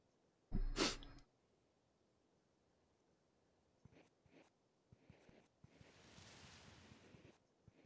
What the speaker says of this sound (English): And I gotta sneeze again.